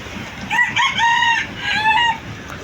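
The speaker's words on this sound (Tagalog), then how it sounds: "Ingay ng bantam, ah. Kung makatalaok, akala mo ang laki." A bantam rooster crows twice in quick succession, loud and close, a shrill wavering call with little else around it.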